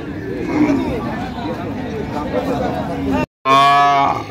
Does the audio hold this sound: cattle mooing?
yes